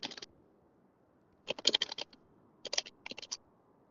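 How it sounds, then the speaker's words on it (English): Computer keyboard typing comes in short clustered bursts of crisp, rapid clicks separated by quiet pauses, close and clear with no voices. "there's a lot of typing going on"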